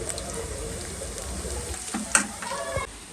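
Onion pakoras sizzle in hot oil, a steady close crackle broken by a few clinks and scrapes of a stirring utensil.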